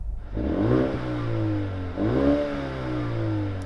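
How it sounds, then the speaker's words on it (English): A Mercedes-AMG A35 engine revs up twice, each rise in pitch followed by settling back to a steady idle hum, close and fairly loud. "come on, let's hear the Mercedes."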